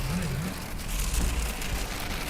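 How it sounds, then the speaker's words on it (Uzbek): Hail falling outdoors at the Kora-Koy resort area, a dense continuous rattling patter with a low rumble underneath, loud and steady. "O'rtoqlar, hozir do'l yog'vordi mana."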